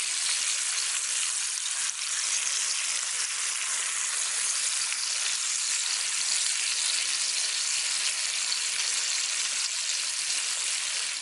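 A ribeye steak sizzles in a cast iron pan, a loud, continuous, even frying hiss that carries steadily from start to finish with no voices.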